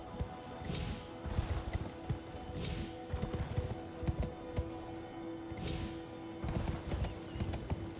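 Hooves of a horse galloping in Elden Ring beat in quick repeated clusters, close and steady over game ambience, with a brief snort or whinny.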